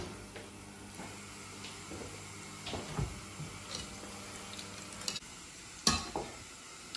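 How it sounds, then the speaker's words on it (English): Rice frying in a hot pan with sesame oil, a soft steady sizzle with scattered scraping and stirring knocks of a utensil, a few sharper clatters near the end. "Get the pan nice and hot with the sesame oil. We put the rice back onto heat."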